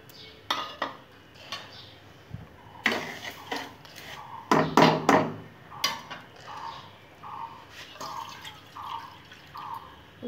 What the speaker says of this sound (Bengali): প্রথমে আমটা একটু নাড়াচাড়া করে নেব